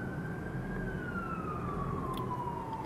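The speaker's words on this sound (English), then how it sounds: "Pardon the sirens there, we're in New York." A police siren wails on a New York City street, a single tone sliding slowly downward through a steady low rumble of traffic, heard at a moderate distance with no speech.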